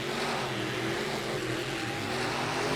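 Race trucks launching off the line at a racing event, a loud steady roar of engines accelerating hard with no letup across the whole moment.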